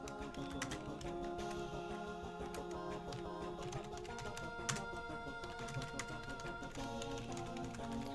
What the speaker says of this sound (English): Doing a little bit of typing.